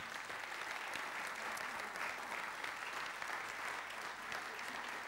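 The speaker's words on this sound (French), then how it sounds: "On veut acclamer Jésus pour ce qu'il a accompli." Easter Sunday church congregation applauding steadily in acclaim of Jesus, a dense, even wash of many hands clapping continuously at moderate loudness throughout.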